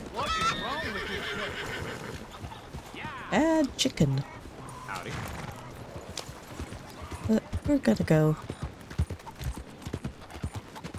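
A horse named Morgan in Red Dead Redemption 2 whinnies loudly and clip-clops, with rising neighs and sharp hoof strikes between bursts of close male speech.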